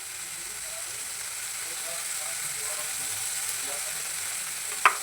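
A spice paste of ginger, tomato and chilli frying in a pan, a soft steady sizzle and hiss throughout with a single sharp clink near the end.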